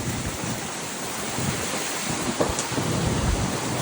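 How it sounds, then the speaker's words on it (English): Heavy thunder rumbles through a driving rainstorm on a farm during calving season, a continuous loud roar of rain with low booming rolls that swell toward the end, no voices. "Lightning and thunder."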